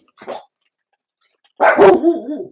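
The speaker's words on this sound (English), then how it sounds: "Crazy dogs." A dog gives a short bark, then after a pause a louder, longer bark with a growling tail, close by.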